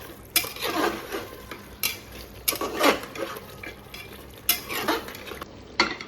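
Chicken pieces coated in masala are tossed and stirred in a pan, several distinct scraping and clattering strokes of a spoon against metal over a soft sizzle, close and intermittent, with no talking.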